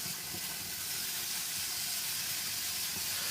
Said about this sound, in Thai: จากนั้นเราก็ผัดคลุกเคล้าให้ส่วนผสมเข้ากันได้เลย